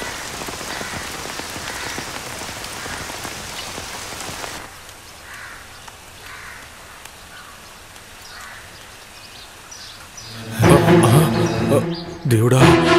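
Heavy rain pours steadily in a downpour near a temple water tank, a dense hiss at first that thins to lighter patter midway before louder sounds break in near the end.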